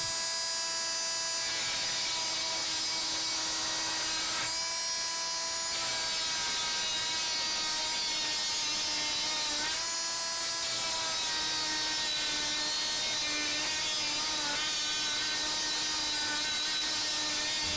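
Dremel Multi-Max MM50 corded oscillating tool cutting through hollow metal, a continuous high buzzing whine with rasping grind that shifts in pitch as pressure and speed change, close and steady with no speech.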